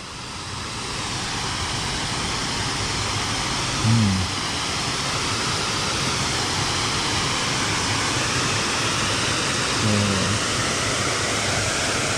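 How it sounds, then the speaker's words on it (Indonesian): A river stream at Puncak Tombo in Batang flows past a pool, giving a loud, steady broadband rush that fills the whole stretch, with two brief low thumps standing out partway through. "Nah itu ada aliran sungainya,"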